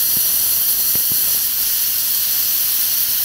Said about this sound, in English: so I thought some clean steam might be good for them